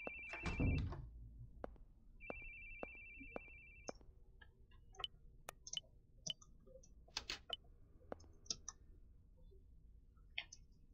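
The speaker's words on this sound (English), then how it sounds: "Why does the phone keep going off?" A telephone rings in two bursts inside a horror game, followed by scattered faint clicks and ticks in a quiet room.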